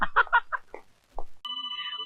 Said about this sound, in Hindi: ये दिल की घंटी नहीं, मोबाइल की घंटी है।